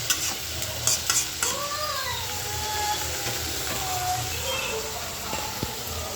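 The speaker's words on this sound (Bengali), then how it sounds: "আমি এখন এই যে মাছের তরকারি রান্না করার জন্য আলুগুলো ভাজে নেব।" Potatoes frying in oil for a fish curry over a low gas flame, a steady soft sizzle with occasional stirring clinks, close and continuous with no talk.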